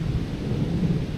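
Thunder from a lightning storm over the West Virginia hills, a low sustained rumble rolling through the whole moment, with rain hissing softly underneath.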